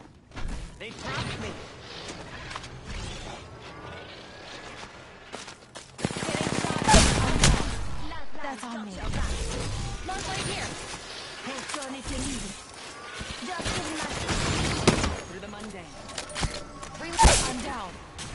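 Video game firefight with bursts of automatic gunfire and volleys of shots, loudest in dense clusters around the middle and near the end, with voices and game dialogue talking throughout.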